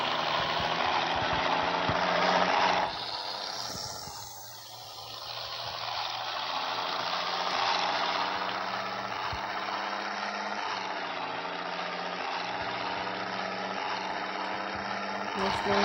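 A truck engine in a truck simulator game, a continuous droning rumble running throughout under rain, with a brief dip early on and someone talking over it.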